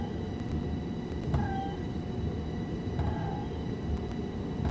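Locomotive wheel slip in Train Sim World 2: a steady rumbling drive with faint high whines and brief squealing slides from the wheels, heard alone at moderate volume.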